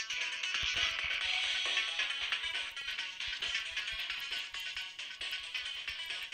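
A phone gives off a faint, continuous glitchy buzzing noise, broken by rapid irregular clicks throughout.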